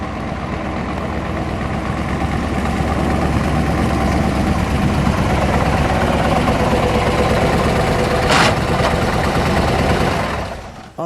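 A burgundy 1969 Chevrolet Corvette 4-speed with the L89 427 tri-power V8 idles with a steady, loud, deep rumble that holds for about eleven seconds, with a brief sharper burst near the end and no talking.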